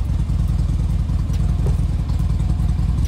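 A 2015 Harley-Davidson Dyna FXDB sits warming up with its engine idling close by, giving a steady, loud, lumpy throb that stays even throughout, with no talking.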